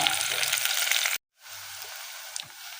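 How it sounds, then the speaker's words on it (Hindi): Chopped onion frying in hot oil gives a steady, loud broadband sizzle, broken by a brief silent cut, then a slightly softer continuous sizzle with faint clinks. "तेल गरम करके ये प्याज मैंने इसमें डाल दी।"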